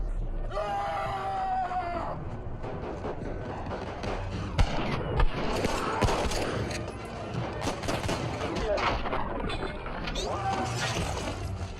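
Battlefield 1 gameplay with dense bursts of gunfire mixed with screaming voices and battlefield clatter, loud and continuous throughout.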